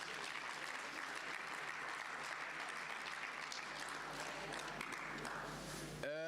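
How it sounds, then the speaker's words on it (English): Sustained audience applause at an e-learning summit, a steady dense wash of clapping from a large crowd at moderate level, ending abruptly with a brief tonal sound. "A big round of applause for Mr."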